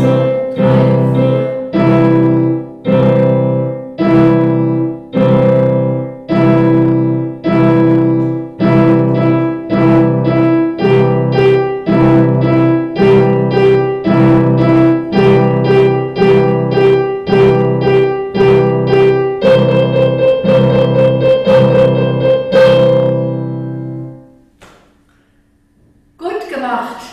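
Piano plays the Uhrenkanon clock canon: a steady, even pulse of loud repeated notes and chords over about twenty-five seconds, ending with a brief held chord and a quiet tail.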